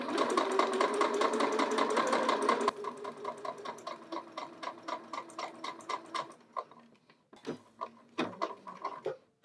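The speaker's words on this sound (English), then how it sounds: "we'll start right from this seam line and go to the other seam line and backstitch at" A sewing machine runs fast and steady while stitching a bodice seam, then slows into separated bursts and short pauses as it backstitches at the seam end, heard alone at moderate volume.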